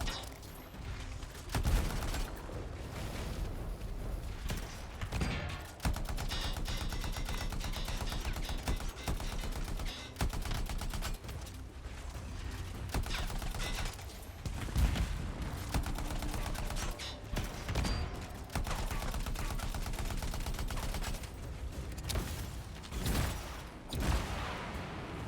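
Weapon fire in the video game Anthem, sustained rapid bursts of shots with short gaps and booming hits, dense and loud throughout.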